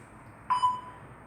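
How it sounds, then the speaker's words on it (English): A workout interval timer gives one short electronic beep, faint and brief, over a quiet room hum. "press play on the interval timer, and it will beep you down"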